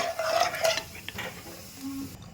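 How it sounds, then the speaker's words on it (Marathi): A spoon stirs a masala rice mixture with added water in a pressure cooker pot for Maharashtrian masalebhat, with several close scraping and clinking strokes against the metal in a quick, uneven rhythm. "पुन्हा एकदा ते छान असं हलवून घ्यायचं आहे"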